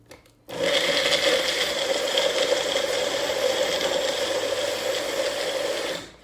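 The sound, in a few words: Magic Bullet blender mixing breakfast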